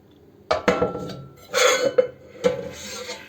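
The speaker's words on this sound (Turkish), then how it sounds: "Şimdi şöyle büyük bir tencereye çaydanlığı içerisine koyuyoruz." Metal clanks and clatters as an old, burnt metal teapot is set down into a larger pot for cleaning, a few sharp knocks followed by scraping and settling, close and loud.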